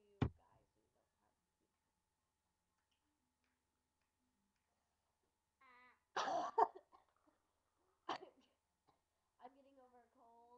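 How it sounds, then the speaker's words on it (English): Coughing from someone getting over a cold: a sharp single cough at the start, then a quiet gap, a burst of coughs with throat clearing, and another cough, with brief speech between them. "I'm getting over a cold, so please don't mind the coughing."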